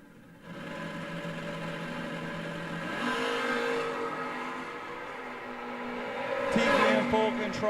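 Drag race cars at the St. Patrick's Classic, including the ReEntry Racing Camaro, roar loudly and continuously as engines rev and launch, with a rising surge of power near the end.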